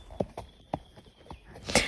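A horse walks calmly on a long rein, its hooves clip-clopping in a steady, evenly spaced rhythm, close by with a faint rustle between steps.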